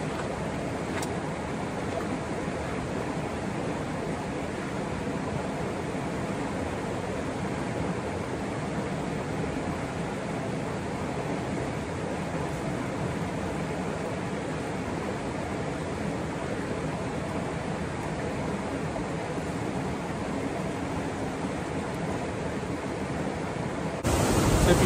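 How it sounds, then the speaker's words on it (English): A massive waterfall and big stream flowing beside a camp in Ireland give a constant, even rush of water, a broad steady roar that holds unchanged for the whole stretch without talk. "Behind me, there's the waterfalls and big stream as well, actually, because you can see through there is a waterfall, massive one, and it flows down."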